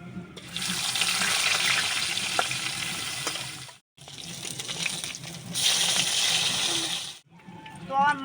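Pieces of freshly caught pond fish fry in hot oil in a pan, producing a loud, steady sizzle interrupted by two short gaps.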